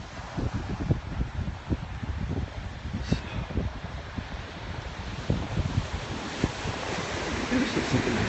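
Ocean surf at Malibu Beach, California, heard as a steady, broad wash of waves with low rumbling swells, mixed with buffeting wind noise on the microphone throughout.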